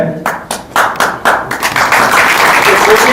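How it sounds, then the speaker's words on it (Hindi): Audience applause greets a book launch at a Maithili literary event, a burst of hand claps swelling into sustained clapping that carries on steadily throughout, loud and close with some voices mixed in. "ताली से स्वागत थपड़ी से स्वागत करे।"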